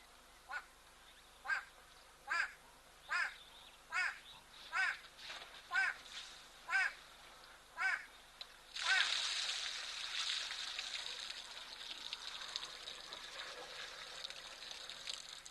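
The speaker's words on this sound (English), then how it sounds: "There's still a very strange bird calling in the background" An unidentified bird calls repeatedly at a waterhole, giving about a dozen evenly spaced harsh, croaking notes, followed by a louder, longer burst of rushing noise.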